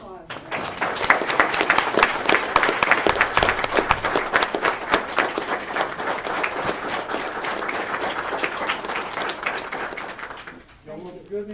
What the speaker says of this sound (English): Wait, one more round of applause.